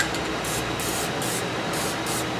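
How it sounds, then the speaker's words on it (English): An aerosol can sprays lubricant onto the hub and shaft splines of a Dodge truck during ball joint and CV shaft work, with several short hissing bursts close by over a steady background noise. "spray some in the hole on the splines for the shaft, so to prevent that from getting seized in there someday"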